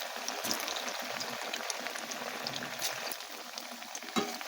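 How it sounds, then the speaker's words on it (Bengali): Chira (flattened rice) pakoras fry in hot oil in a wok, giving a steady, dense crackling sizzle that runs unbroken throughout with no voices. "একে একে আমি তেলের মধ্যে সব আস্তে আস্তে দিয়ে দিচ্ছি"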